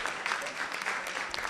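Brief burst of audience clapping at a public forum on electoral reform and vote buying, moderately loud, dense and continuous, with voices murmuring beneath it.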